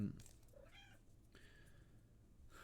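A house cat meows for food in a short, quiet plaintive call, followed by a second softer meow, with faint room noise around it.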